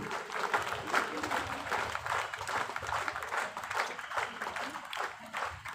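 Applause from an audience at a student union foundation day celebration, a steady wash of clapping sustained throughout at moderate distance, with some background voices mixed in.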